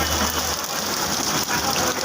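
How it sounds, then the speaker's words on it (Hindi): Heavy rain pours down in Delhi, a dense, loud and continuous roaring wash heard close by with no voices over it. "आज देखो बारिश हो रहा है, किस तेज बारिश।"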